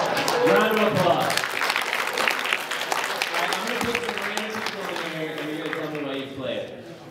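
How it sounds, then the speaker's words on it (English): Audience applause from a convention panel crowd at an anime convention, a steady wash of many hands clapping with cheering voices mixed in, loud at first and tapering slightly over several seconds. "Round of applause."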